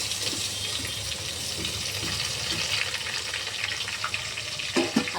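Cumin, onion and tomato frying in a pan for dal khichdi, a steady close sizzle with stirring scrapes and a couple of sharper clinks near the end.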